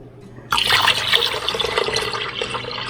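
Water pours steadily into an Instant Pot, a close, continuous splashing gush that starts abruptly and keeps running to the end.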